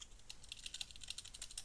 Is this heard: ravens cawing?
no